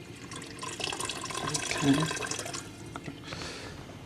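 Boiled water poured into a pot of harira soup, a steady liquid splashing and gurgling close by for several seconds, with a brief spoken word over it.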